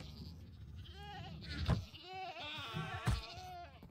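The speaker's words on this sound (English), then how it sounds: "Oh, there's a screaming goat head in this one." Screaming goat horn from the Minecraft video game blaring a strained, wavering goat-like bleat, loud and close, with sharp bursts breaking through; no talking over it.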